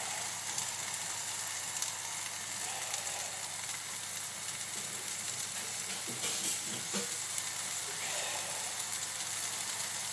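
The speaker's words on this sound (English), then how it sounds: "Now we just let this tofu cook for a couple minutes each side." Tofu frying in a pan gives a steady, even sizzle and hiss that lasts throughout at moderate loudness, with a few faint clinks partway through.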